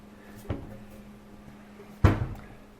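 Two sharp wooden knocks of a cabinet door, a lighter one then a louder clack a second and a half later, in a quiet room.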